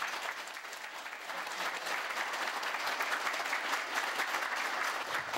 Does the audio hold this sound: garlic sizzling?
no